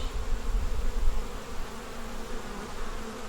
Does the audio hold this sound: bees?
yes